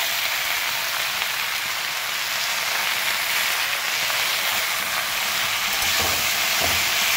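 Spinach and tomato frying in a pan give a steady, close, rain-like hiss throughout, with a couple of soft utensil knocks near the end and no talking.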